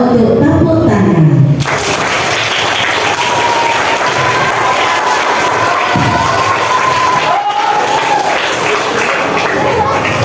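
Children in a school hall clap and cheer together for a guest speaker at an Indonesian school event on preventing sexual violence, a loud, steady wash of applause and shouting that swells briefly then holds for about ten seconds.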